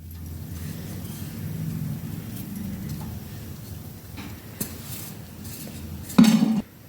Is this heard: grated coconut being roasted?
yes